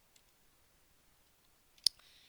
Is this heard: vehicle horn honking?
no